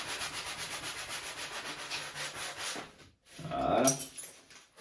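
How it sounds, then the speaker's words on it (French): Hand sanding of wooden window muntins where they meet their base, heard as close, rhythmic rubbing strokes, then a brief pause, then a final harsher burst of scraping. "Maintenant, coup de ponçage pour que ce soit bien régulier ici"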